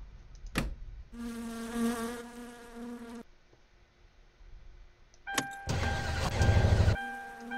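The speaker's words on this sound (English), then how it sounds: "let's just see if this car actually starts now." A car in the game My Summer Car cranks repeatedly without starting: a whining, buzzing starter motor runs in two separate bursts of a couple of seconds each, with a quiet pause between them and no engine catching.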